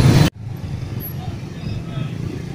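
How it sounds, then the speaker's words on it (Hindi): Heavy road traffic rumbles on a city road beside a stadium during light rain, a steady, moderately loud hum of passing vehicles that follows a short burst of noise at the start. "इतने ट्रैफिक बहुत ज़्यादा है"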